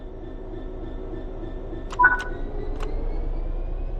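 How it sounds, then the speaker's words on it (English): A diesel locomotive engine in a train simulator video game rumbles low and steady as the train begins to move, with a couple of brief metallic clicks partway through. "Apply some throttle to get the train moving."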